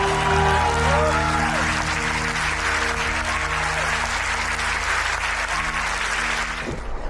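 Sustained applause from a large audience honouring Doctor Hedgewar during a patriotic speech, a dense steady wash of clapping that fills the room, with low tonal background music under it before fading near the end.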